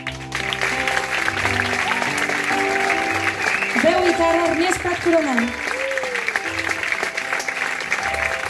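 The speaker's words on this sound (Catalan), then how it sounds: "I un fort aplaudiment, sisplau," An audience in a cloister applauds steadily at a concert while someone speaks over the clapping, announcing a performer into a microphone.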